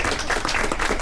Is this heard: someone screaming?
no